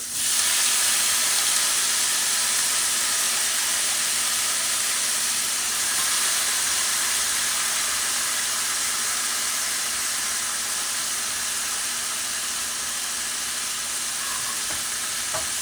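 Washed spinach dropped into a very hot pan gives a loud, continuous hiss and sizzle of steam, steady and close for the whole stretch, no talk.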